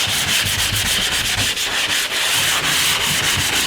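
Hand sanding dried drywall mud, a loud steady scratchy rubbing with quick back-and-forth strokes in a fast even rhythm, close up, with no voices.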